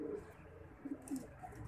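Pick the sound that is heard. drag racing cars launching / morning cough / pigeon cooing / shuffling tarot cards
pigeon cooing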